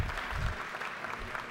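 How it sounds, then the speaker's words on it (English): An audience in the Georgia House chamber claps in a short, dense burst, heard at a moderate distance with some chatter mixed in. "clap for my sorority"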